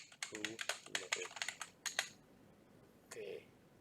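Quick bursts of laptop keyboard typing, a dozen or so close clicks in uneven runs, then a pause and one more faint tap.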